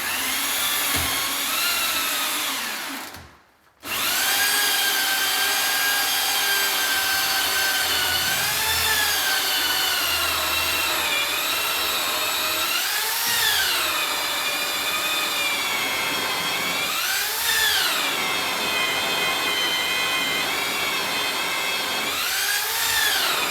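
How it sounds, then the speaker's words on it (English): A loud power drill whines steadily and grinds while boring level through an entrance door for a lock, its pitch rising and falling as the bit bores through, with a brief stop near the start. "So I'm going to drill this through."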